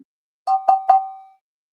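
A vintage pottery piece is tapped three times in quick succession and rings clearly like a bell, each tap sustaining a pure tone that fades over about half a second.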